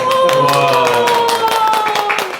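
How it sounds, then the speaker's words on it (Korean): A studio group claps to welcome guest teachers, a steady patter of hands running the whole stretch beneath bright sustained musical tones. "우리 서로 환영하는 의미로 박수로."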